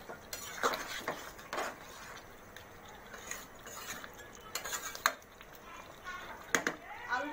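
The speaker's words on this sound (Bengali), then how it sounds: "দিয়ে আমি একটু নাড়াচাড়া দিয়ে দিচ্ছি।" Beef and potato curry being stirred in a pot, with a spoon clinking and scraping against the metal in irregular bursts over a steady background hiss of simmering.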